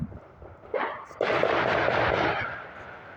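New Year's gunshots in Flint, Michigan: a couple of distant cracks followed by a sustained rolling volley of overlapping shots and booms that fades out over the next two seconds.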